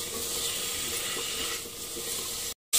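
Chicken stew ingredients with potatoes fry hard on high heat in a pan, giving a loud, steady, dense sizzle that runs without pause and then cuts out abruptly for a moment near the end.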